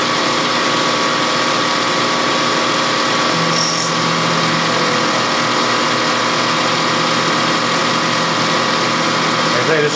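A milling cutter grinds through a hard aluminum carburetor body, producing a loud, steady machining whine with a constant motor drone throughout, and a brief tonal change partway through.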